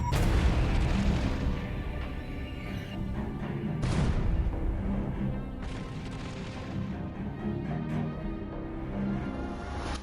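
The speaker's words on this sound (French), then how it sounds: "l'offensive allemande fait déverser sur les terres de Verdun un obus toutes les 3 secondes" Artillery shells explode over the Verdun battlefield in 1916, with heavy booms and crashes following one another in dense succession. A strong blast lands near the start and another around the fourth second, over a continuous rumbling barrage.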